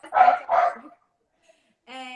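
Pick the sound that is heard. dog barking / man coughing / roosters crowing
dog barking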